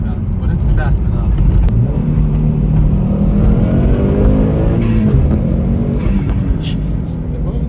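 Stock Subaru WRX STI accelerating hard, with a loud, continuous engine drone whose rising harmonics climb steadily through the pull. A voice talks over it.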